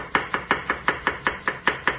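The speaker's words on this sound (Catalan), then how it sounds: "anem tallant, farem la ceba juliana" A knife chops onion into julienne strips on a cutting board with ten crisp, evenly spaced strokes in quick, steady rhythm, close and clear with no talk.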